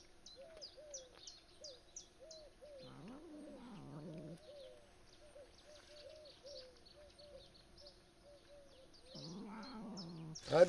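Street cats fed by a fisherman meow repeatedly in short, clear calls, with a few drawn-out yowls in the middle and a louder burst near the end over a quiet background.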